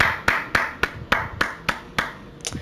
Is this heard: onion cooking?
no